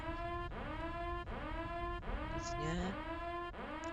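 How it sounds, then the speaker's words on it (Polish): A harmonic wailing alarm in a GTA San Andreas video game rises and repeats in cycles of under a second, like a siren, with brief speech over it. "Tylko ten alarm to jest taki wkurzający"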